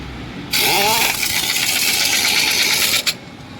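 A loud pneumatic impact wrench rattles for about two and a half seconds, spinning up at first and ending with a sharp final hit, while nuts and bolts are fitted on a 14.00-25 JCB tyre.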